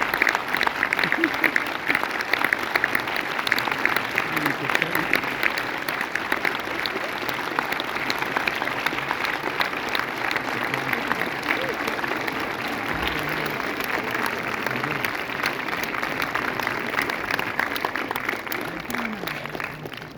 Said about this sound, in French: je vous demande un tonnerre d'applaudissements pour François Ozon